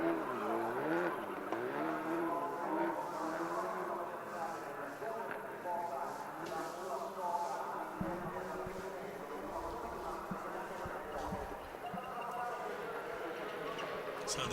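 Skoda Fabia and Citroën C3 rally cars race at the Monza Rally Show, engines rising and falling through gear changes at moderate distance beneath steady commentary.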